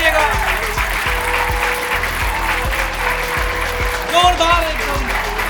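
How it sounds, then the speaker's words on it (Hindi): An audience at a live shayari show applauds to welcome the poet Varun Anand, sustained crowd clapping under an amplified background with a steady rhythmic thump and a voice that rises briefly near the end. "जोरदार तालियों के साथ वरुण आनंद भैया का स्वागत कीजिएगा।"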